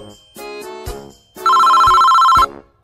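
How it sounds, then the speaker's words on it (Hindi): A phone rings loudly in a courtroom scene, first as short electronic bell bursts, then as one sustained steady two-tone ringtone lasting about a second, with no voices over it. "अरे यह किसका फोन बज रहा है?"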